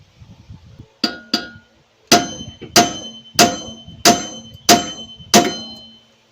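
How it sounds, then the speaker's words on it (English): Repeated hard metallic clanks of a hammer striking a ball joint on a 2017 Dodge Charger, about eight blows in a steady rhythm, ringing briefly after each hit. "we're going to get a hammer and we're going to beat right here"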